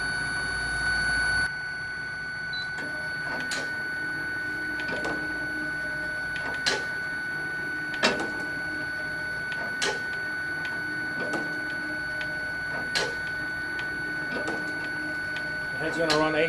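A Kegel Kustodian ION bowling lane machine runs its oil head test, with a steady mechanical hum and regular clicking knocks as the head passes back and forth, heard at close range.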